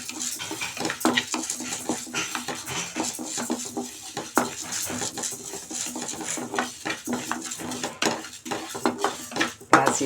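Moong dal dry-roasts in a pan on low heat, a spoon scraping and clattering against the metal in quick irregular strokes as the lentils rattle and patter close by, without oil sizzle or speech.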